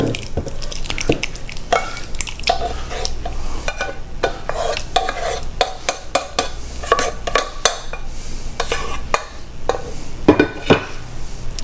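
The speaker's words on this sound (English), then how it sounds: "take the rest of your sauce. Dump it right on top there" Sauce scraped and dumped from a pan over baked spaghetti, with loud clattering metal scrapes, stirring clinks and a soft sizzle in quick irregular bursts, close by and with no talking.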